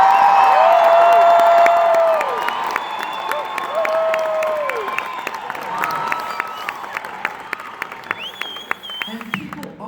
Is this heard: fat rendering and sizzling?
no